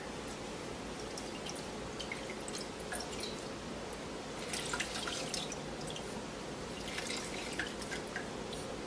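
Buttermilk squeezed from fresh butter through cheesecloth trickles and drips faintly into a container, a soft continuous wet patter with a few brighter drips. It is quiet, close and wordless.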